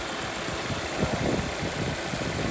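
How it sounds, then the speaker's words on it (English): Engine of a 2016 Volvo V60 idling steadily, a close, even mid-pitched hum with a faint vibration and no talk. "Here's the engine."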